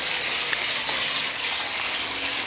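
Water gushes steadily as a beach is refilled from a lake, a loud continuous hissing rush of flow with no voices heard over it.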